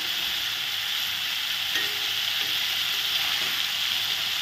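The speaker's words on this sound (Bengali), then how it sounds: "দেখো এক পাশ অনেকটা ভাজা হয়ে গেছে, আমি এখন উল্টিয়ে দিই।" Lentil cakes (dhoka) fry in a pan with a loud, constant sizzle, broken by a few soft utensil taps.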